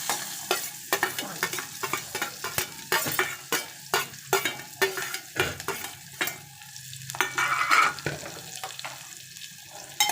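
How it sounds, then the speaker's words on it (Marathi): Sizzling and crackling of onions frying in hot oil, with repeated sharp stirring scrapes throughout and no talking. "मी एक मोठा कांदा बारीक चिरून घेतलेला मी फोडणीला घालत आहे"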